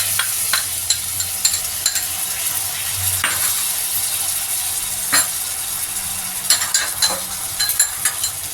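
A besan fudge mixture with added yogurt sautéed in a pan, giving a steady sizzle with repeated sharp scrapes and clacks of a spoon stirring, close and fairly loud.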